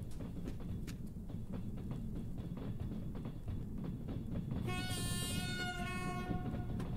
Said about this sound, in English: That was the worst train horn I've ever heard of in my life.